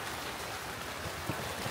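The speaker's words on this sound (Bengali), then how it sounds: "এই বৃষ্টি হয়ে গেল।" Rain falls steadily outdoors, a soft continuous hiss with scattered drops, fairly quiet and without talk.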